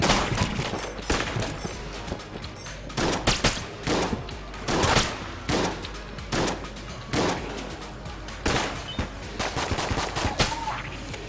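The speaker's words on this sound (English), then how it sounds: "they made the repeating pistol. This is awesome, I love this gun." Rapid bursts of repeating pistol gunfire from the video game Enter the Gungeon, loud and close, firing in quick volleys with short gaps throughout.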